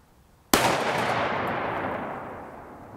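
A single loud, close .308 Winchester rifle shot from a 22 inch barrel, fired into a gel block, with a sharp crack followed by a long, slowly fading echo.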